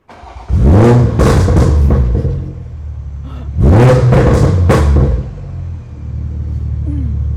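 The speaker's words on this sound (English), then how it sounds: "So go ahead and start the car." A Toyota Supra GR MkV A90 engine starts and revs hard in two loud, close bursts, each swelling and falling back, then settles into a steady, rumbling idle.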